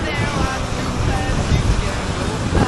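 A waterfall on a hike near Yosemite gives a loud, continuous broadband roar with heavy wind buffeting on the microphone and no clear breaks.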